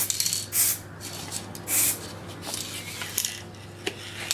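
Chrome spray paint hisses from an aerosol can onto a Roberts R600 radio case in several short close bursts, with a low steady hum underneath.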